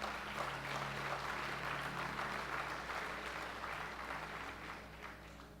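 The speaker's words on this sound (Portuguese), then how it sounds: "Então aplauda o Senhor." A church congregation applauds during a worship service, steady dense clapping heard throughout at moderate distance, gradually easing slightly toward the end.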